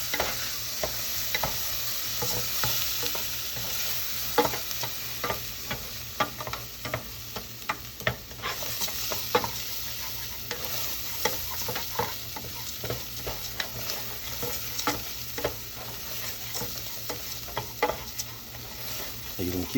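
Minced garlic sautéing in hot olive oil as a risotto base, a steady broadband sizzle with frequent scraping stirs and utensil taps against the pan, close and continuous with no talk.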